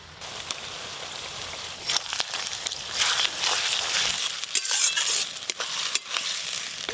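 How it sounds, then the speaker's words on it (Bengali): Onion and ginger-garlic paste frying in a pan for a Bengali mutton curry, a steady close sizzle with scattered clicks and stirring scrapes, no talk. "আদা রসুন খুব ভালো করে ভেজে নিয়েছি।"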